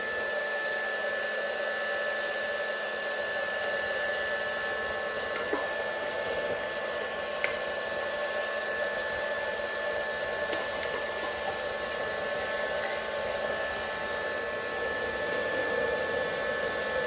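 Blower on a homemade waste oil burner running steadily, a constant close airy whoosh with a faint hum that holds even for the whole stretch, with no voices over it.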